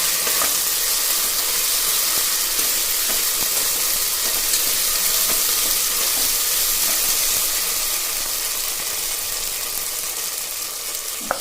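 Steady, hissing sizzle of ingredients frying in a pan for bisibelebath, continuous and fairly close with no talking.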